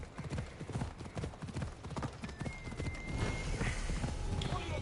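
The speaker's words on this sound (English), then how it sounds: "I need to take this horse either to Adonis or to the stable boy" Horse hooves clip-clop steadily in the video game Assassin's Creed Odyssey, a rapid rhythmic trot heard close under game ambience and music.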